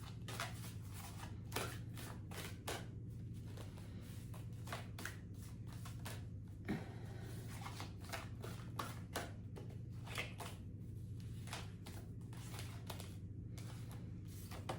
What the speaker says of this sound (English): so we're gonna keep shuffling.